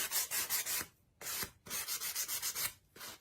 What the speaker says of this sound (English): sand off your edges. Sand them.